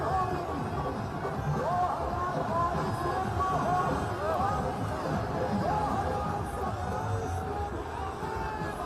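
Crowd at Yogi Adityanath's road show on the streets of Lucknow during election campaigning: a steady, dense babble of many voices with continuous background noise and no pauses.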